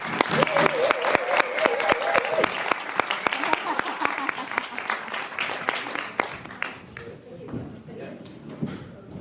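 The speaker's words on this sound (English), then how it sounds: "Please give her a big round of applause." A modest audience gives a round of applause for an artist about to present, a clatter of separate claps that thins out and dies away after several seconds, with faint voices under it.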